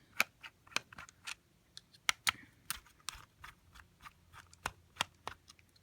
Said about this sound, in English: to get the motor housing out, you're going to take out these 4 screws